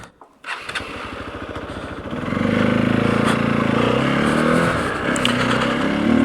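Motorcycle on its stock exhaust starting up, then idling and revving with a steady, throaty rumble close by, with a brief blip of throttle near the end.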